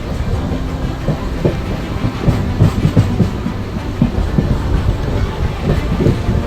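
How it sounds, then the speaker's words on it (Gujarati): A passenger train runs along the railway from Varetha toward Mehsana, heard from inside as a loud, steady rumble with rhythmic clickety-clack of wheels over rail joints and no talking. "હવે રેલવે નીકળી ગઈ છે વરેઠાથી મહેસાણા જવા તરફ."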